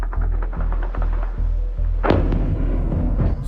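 A Russian nuclear missile explosion: a rapid series of heavy low thumps, then a loud sudden boom followed by rolling, crackling rumble that lingers to the end.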